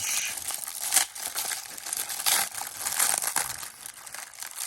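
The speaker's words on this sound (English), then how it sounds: "Next, this next paper pouch." Crinkly paper pouch of toy accessories being opened, with a steady run of close, crisp crackling and rustling and a few sharper crunches, no talking.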